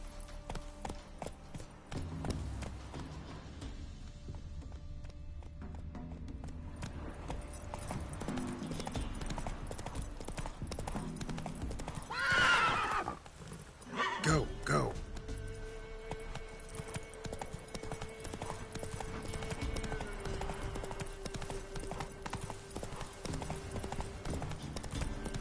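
Roach, a horse in The Witcher 3, gallops in a long steady run of close hoofbeats under game music and ambience, with a brief louder swell midway.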